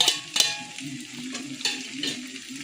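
Scrambled egg bhujia tipped into a pan with pasta, a few sharp utensil clacks against the pan, then steady sizzling and stirring close by, with no talking.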